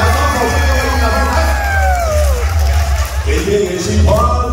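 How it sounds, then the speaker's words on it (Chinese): A concert audience at a Taiwanese-language live show bursts into sustained applause and screaming, a dense wall of crowd noise under amplified music and a singer's voice that rises and falls throughout. "最后给自己掌声加 尖叫声来双手送给我们掌"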